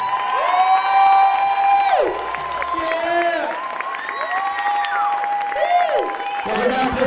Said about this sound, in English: let's have a huge round of applause as they come out one more time.